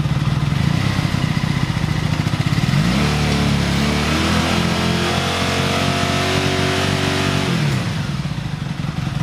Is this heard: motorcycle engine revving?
yes